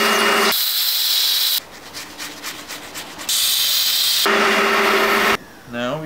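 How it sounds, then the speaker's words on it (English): Loud bursts of hissing steam are sprayed onto cleaned, tightly laced suede sneakers to reshape them, two long blasts separated by quieter gaps with faint rubbing and handling sounds. "I'm gonna steam those really well so they can form back into the shape of the shoe"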